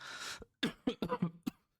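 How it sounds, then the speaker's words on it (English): A person coughs several times in quick succession, close and fairly loud, after a brief breathy rush of air. "Sorry about the coughing."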